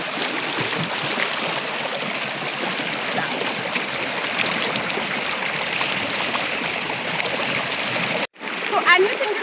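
Wild river water rushing and splashing steadily while a person scrubs their face at the bank, a continuous broad wash of flow that cuts briefly near the end, then resumes.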